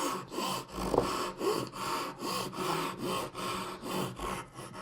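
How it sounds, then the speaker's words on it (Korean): A hand saw cuts a tenon for a mitered mortise-and-tenon wood joint in slow, even rasping strokes, about nine back-and-forth passes, close up and alone. "부드럽게 톱질을 해서 마무리를 짓는 거죠."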